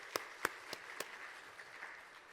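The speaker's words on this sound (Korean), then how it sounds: "영광의 박수 올려드리도록 하겠습니다" Scattered handclaps from a church congregation during a Wednesday worship service: a few sharp, distinct claps early on, then softer sporadic ones fading out, with no one speaking.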